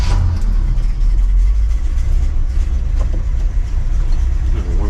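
An old engine with a gone camshaft runs loud and close, a steady low rumble swelling into rough revs and settling back, with no voices over it.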